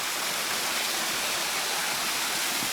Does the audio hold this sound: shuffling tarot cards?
no